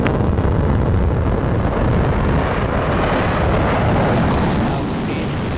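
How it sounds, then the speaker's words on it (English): The Blue Origin New Shepard rocket engine relights during landing on a test flight, a loud, broadband roar that stays steady throughout, with wind buffeting mixed in, easing slightly near the end. "There's that engine relight."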